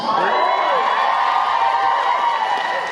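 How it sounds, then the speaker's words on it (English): A packed convention-panel audience at FanX Salt Lake City roars with loud, sustained cheering and shouting, a dense crowd wall of sound that holds steady for the whole stretch. "Beetle and Grimm's has never had that loud of a cheer ever."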